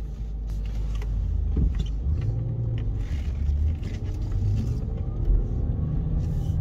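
A VW Phaeton 5.0 V10 diesel with 4Motion pulls away, its engine a steady low rumble heard from inside the cabin, with faint clicks and small interior noises over the continuous drone.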